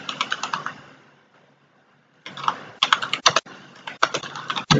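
Someone types code on a computer keyboard in quick close bursts of clicks, pausing for about a second before the rapid tapping resumes.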